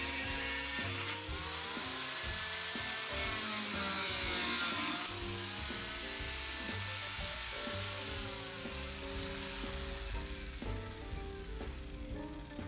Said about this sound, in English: One more example of an abrasive disc is the diamond wheel on a roto-zip.